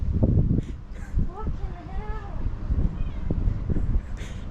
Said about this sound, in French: Puis des miaou après en retour.